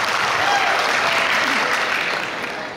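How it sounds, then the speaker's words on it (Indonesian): An audience claps at an opening ceremony for a Perkantas Jakarta branch gathering. The applause is dense and steady throughout, fading slightly at the end, with no voices over it. "Boleh tepuk tangan teman-teman."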